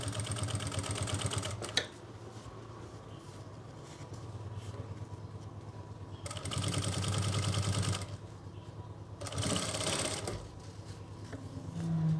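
A sewing machine stitches a saree in three separate runs of steady motor whirring and needle clatter, with quieter pauses between, fairly close and with no talking.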